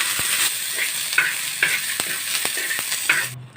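Green chillies fry in about a tablespoon of cooking oil, a bright continuous sizzle close by, punctuated by regular taps and scrapes of a spoon stirring the pan.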